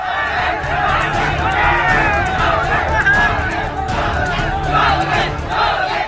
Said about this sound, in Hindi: सैकड़ों की भीड़ पुलिस वालों पर टूट पड़ी है।